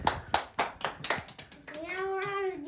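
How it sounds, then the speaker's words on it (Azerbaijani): A small family group claps steadily at a birthday party, with about half a dozen evenly spaced bursts of applause up close, then a voice rises as the clapping fades. "Alqışlar, alqışlar."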